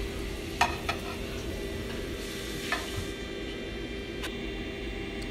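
A tortilla-wrapped cheeseburger toasting in a frying pan, a soft steady sizzle under a low hum, broken by a few sharp clicks and scrapes of a utensil against the pan.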